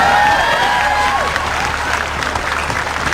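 Studio audience applauding at a televised school quiz show, a steady wash of clapping that fills the clip at a fairly loud level, with some sustained musical tones sounding alongside it.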